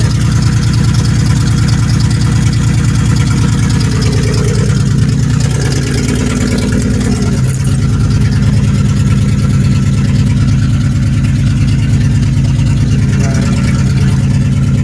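Car engine running after a spark plug and plug wire swap, a loud steady close idle with an even low throb throughout, with no talk over it.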